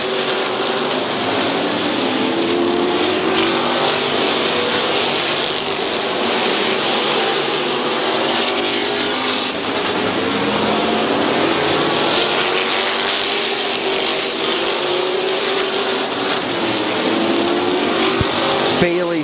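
Race cars circle Midvale Speedway in a sustained, loud engine drone that rises and falls as the pack passes, with a track announcer talking over the steady roar.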